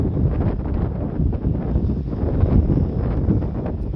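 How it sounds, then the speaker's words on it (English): Strong wind gusts across a bluff at Fort Humboldt, buffeting the microphone with a constant low rumbling roar that swells and eases without pause. "Very windy day out here on the bluff."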